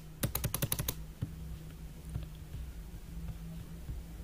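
Quick burst of computer keyboard typing at the start, a rapid run of sharp clicks, followed by a few sparse isolated key presses including an enter key over a low steady hum.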